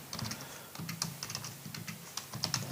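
Typing Python code on a computer keyboard, with quick, irregular clicking keystrokes close by and a steady low hum behind them, no voices.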